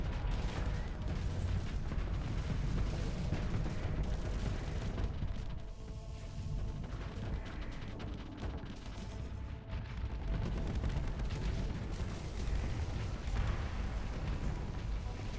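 Ship explosions in the space combat game Starsector, including nuclear bomber blasts, form a dense, continuous barrage of booms and crackling detonations that runs steadily throughout at a loud level.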